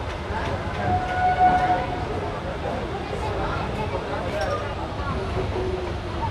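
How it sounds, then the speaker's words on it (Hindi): The Jan Sadharan Express departs Moradabad Junction, a steady rumble of rolling rail wagons with a brief whistle-like tone early on, continuous throughout while someone talks over it. "मुरादाबाद से अपनी ट्रेन डिपार्ट कर चुकी है"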